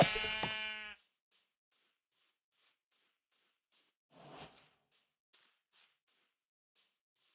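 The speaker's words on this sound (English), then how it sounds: "Let's track down and murder some of the local sheep population." A Minecraft sheep gives one loud bleat at the start, followed by quiet in-game footsteps and faint rustles, with a softer shuffling noise midway.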